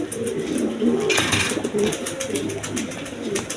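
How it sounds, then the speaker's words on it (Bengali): A pair of large Gorra pigeons coo softly and repeatedly at close range, low throaty calls over a constant background hum with faint other birds. "এখানে এক পেয়ার গররা কবুতর আছে দেখেন"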